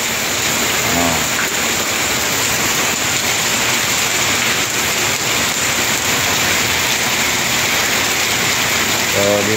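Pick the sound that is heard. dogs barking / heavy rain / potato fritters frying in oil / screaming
heavy rain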